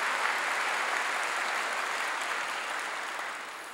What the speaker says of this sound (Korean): 박수를 치려면 치고 말려면 말고